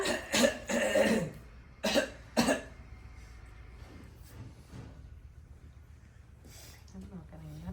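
A child imitating a cough coughs in short bursts, a few sharp coughs clustered together, mixed with faint voices and background murmur.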